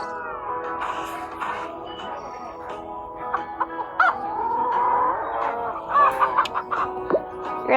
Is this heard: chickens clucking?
yes